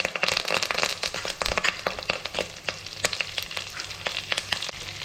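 Curry leaves dropped into hot oil for Telugu ven pongal crackle and spit loudly, a dense run of sharp pops over a steady close sizzle.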